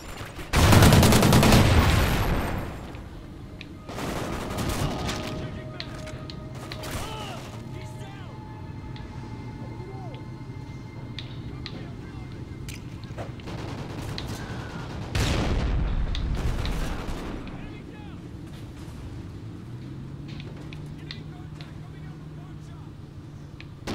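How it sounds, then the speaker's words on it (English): Trinity rocket killstreak blasts and rattling gunfire in Call of Duty: Ghosts roar in two heavy bursts, with steady battle noise and game voice callouts between them. "Friendly Trinity rocket inbound."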